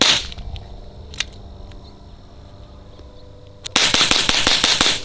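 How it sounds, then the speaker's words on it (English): A Ruger tactical pistol fires in a rapid string of sharp, loud shots at close range, packed tightly together after a quieter stretch of low background sound. "when I shoot, I can shoot this gun as fast as I possibly can"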